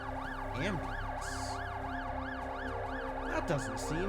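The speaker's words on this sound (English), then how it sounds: "Oh. Ambulance." Wailing ambulance siren from the video game The Alters, a loud rising-and-falling electronic sweep repeating steadily and close, with brief other game sounds near the end.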